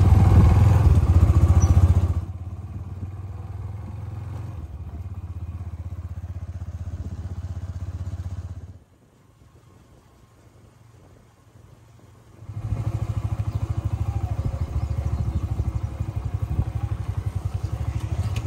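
A scooter ridden on a road on Eid morning, its low engine drone and road rumble loud for a couple of seconds, then steadier and quieter, dropping nearly away before returning strongly.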